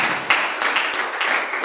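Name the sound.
congregation clapping hands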